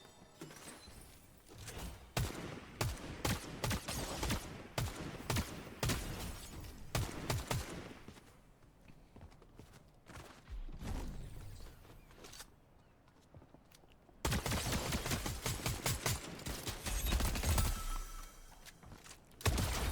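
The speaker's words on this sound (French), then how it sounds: "Oh, j'entends tirer." Bursts of video game gunfire crackle in rapid volleys, some distant and some close, with louder sustained shooting in the latter part amid game sounds.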